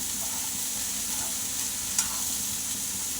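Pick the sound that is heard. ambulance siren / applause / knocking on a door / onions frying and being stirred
onions frying and being stirred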